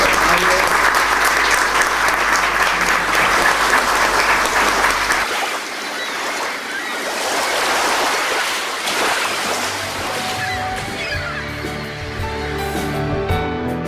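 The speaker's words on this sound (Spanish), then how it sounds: "si no hay preguntas, un aplauso" Audience applause fills the hall at the close of a cybersecurity talk in Mar del Plata, Argentina, loud and sustained for about five seconds before giving way to music.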